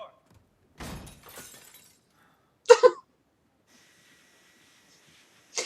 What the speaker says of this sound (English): That would have been even funnier if the glass wasn't meant to fall out.